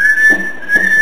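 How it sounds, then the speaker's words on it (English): A person whistles a song melody, a steady sustained tone with slight pitch wavering, close and clear over a faint low murmur in the background. "sometimes what I like to do is whistle at songs"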